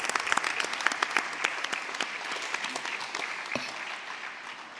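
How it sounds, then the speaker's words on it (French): Applause from a church congregation fills the room, many hands clapping densely and steadily before slowly thinning out, with no voices over it. "Donc on les applaudit aussi."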